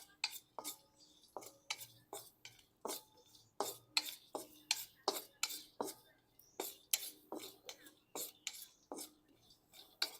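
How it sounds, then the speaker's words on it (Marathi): Charoli seeds lightly roasted in a pan for a spicy Vidarbha chilli curry, a utensil scraping and tapping the pan in quick, regular strokes that run throughout, close and clear with no one talking. "गोडंबी पण आपल्याला भाजून घ्यायची आहे."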